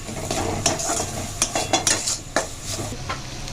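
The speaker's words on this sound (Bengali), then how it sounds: "এবার এইটা দিয়ে মশলাটা ভালোভাবে কষিয়ে নিতে হবে" Masala sautéed in a pan for chicken Moglai paratha, with a spoon scraping and clinking against the metal pan in irregular close taps over a soft continuous sizzle, no talking.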